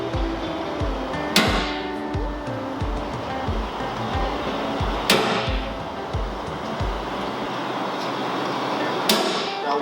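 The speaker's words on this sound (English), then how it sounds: "Go ahead and make you a little punch to ensure you stay on center." A hammer strikes a center punch on a boat transom while an electric outboard is being installed, giving three sharp, loud metallic taps spaced a few seconds apart over steady background noise.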